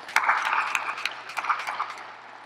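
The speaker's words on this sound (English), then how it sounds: "Let's give her a hand." An audience at a university fall assembly claps together in a dense, continuous round of applause that carries on steadily for a couple of seconds, with no voices over it.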